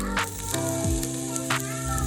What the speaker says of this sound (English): Searing your aromatics really brings out the flavor and the aroma in the end product.